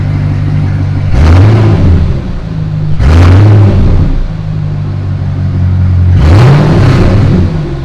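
A C6 Corvette engine revs three times with exhaust cutout valves open, a deep, throaty exhaust roar settling back to a burbling idle between each blip.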